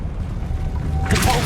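A Confringo fire-blast spell going off in Hogwarts Legacy, a short bright burst arriving near the end over steady game background noise.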